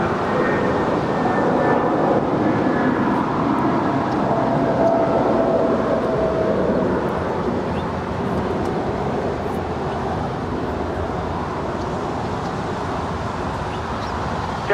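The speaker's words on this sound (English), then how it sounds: "It's an Airbus A320." An Airbus A320 jet departs at night from LAX, heard as a loud, steady roar with a broad rumble that holds for the whole stretch.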